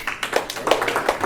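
An audience at a VFW post comedy show gives light, scattered applause, several quick uneven claps at moderate distance, with no speech.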